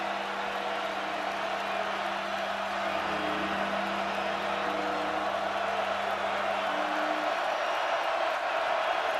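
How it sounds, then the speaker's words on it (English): A packed football stadium crowd in Morgantown roars steadily for the full stretch, a dense, sustained wash of cheering with no breaks, loud and broad rather than close. "these fans are on their feet. They're cheering loud."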